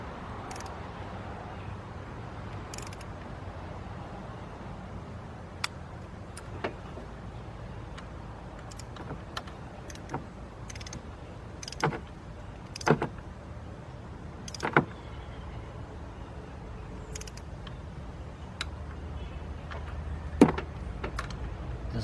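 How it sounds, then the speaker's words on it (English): A torque wrench tightening intake bolts on a 2001 Dodge Grand Caravan 3.3 during a head gasket job: a series of sharp, separate clicks spaced a few seconds apart, close by over a low steady background hum. "Just listen to that torque wrench"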